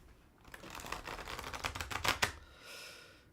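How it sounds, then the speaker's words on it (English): Tarot cards being shuffled, a brief burst of soft riffling and flicking that builds over about two seconds and ends in a couple of sharper snaps, fairly quiet and close. "Shuffle the cards a little bit."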